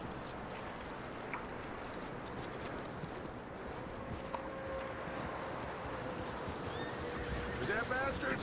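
A horse whinnies and its hooves clop in Red Dead Redemption 2, a drawn-out neigh rising late over steady outdoor ambience, with speech present.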